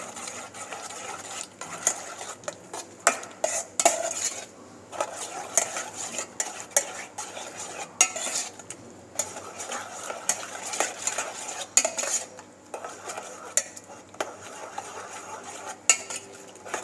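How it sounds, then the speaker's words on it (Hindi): A spoon scrapes and clinks steadily in a pan as a tomato, onion and black pepper spice mix is stirred, producing repeated metallic scraping with a faint sizzle underneath and no talking. "अब इसको अच्छे तरीके से हम मिक्स करेंगे।"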